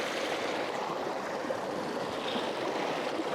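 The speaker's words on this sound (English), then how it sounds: "The way the water comes over the rock onto another rock and then splits and fans out" A mountain stream in Rocky Mountain National Park on a rainy fall day, water pouring over rocks and fanning out, gives a steady, broad rushing wash, close and continuous with no voices.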